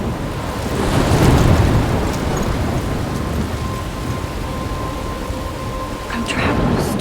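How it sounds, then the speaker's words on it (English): A thunderstorm in Life is Strange, with heavy rain pouring continuously and a deep rumble of thunder building and rolling near the start, then easing into a steady downpour. "I'm trapped in a storm?"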